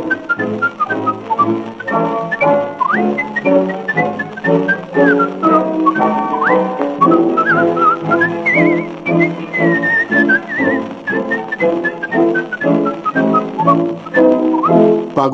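A song melody whistled on an interwar recording, with a bright, piercing whistle carrying the tune over a rhythmic instrumental accompaniment, loud and continuous throughout.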